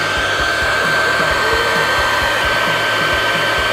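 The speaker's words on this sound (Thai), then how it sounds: "ก่อนอื่นเป่าลวดให้มันละลายก่อนครับผมเพื่อที่จะแปะลงในท่อ PVC" An Okura hot air PVC welding gun blows steadily to melt a plastic welding rod, a loud, close, continuous fan hiss with a faint whine, with no talk.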